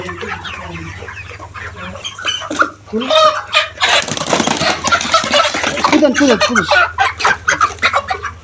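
Many broiler chickens cluck and chatter close by in a busy flock on a contract farm, with a person speaking briefly over them.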